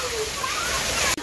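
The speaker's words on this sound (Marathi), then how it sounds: "यो पाणी बी इकडे येतं" Floodwater rushing and sloshing near a house after heavy rain, a loud, continuous broadband wash close by, with a voice speaking over it.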